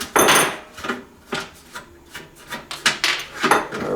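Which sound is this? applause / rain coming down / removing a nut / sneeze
removing a nut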